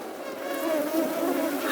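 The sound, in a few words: swarm of mosquitoes buzzing, story sound effect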